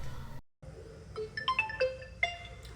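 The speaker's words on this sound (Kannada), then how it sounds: "ಫೋನ್ ಬರ್ತಿದೆ" A mobile phone ringtone plays at home: a short, bright melodic sequence of electronic tones, moderately loud and alone, after a brief silent gap.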